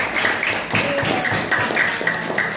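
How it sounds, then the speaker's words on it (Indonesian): Schoolchildren clap together in a classroom during a lesson, a dense, continuous round of applause with rhythmic pulses throughout and no talking. "Tepuk tangan lagi"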